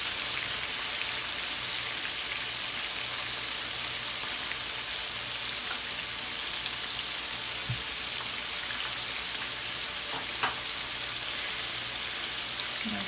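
Sticky honey chicken pieces frying in a pan, giving a steady, dense sizzle that runs unbroken throughout, with a few faint clicks and pops from stirring partway through and no voices.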